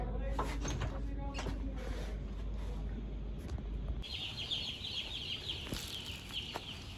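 Young chickens being unloaded at a chicken farm cluck and chirp steadily amid rustling and knocking, with a person talking nearby; a brighter, denser chorus of peeping takes over partway through.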